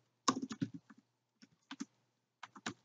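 Close keystrokes on a computer keyboard entering a short word in a Pokemon Crystal game: a quick burst of several clicks, a pause, then two more brief clusters of taps, clean with no voice.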